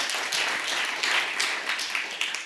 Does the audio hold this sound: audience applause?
yes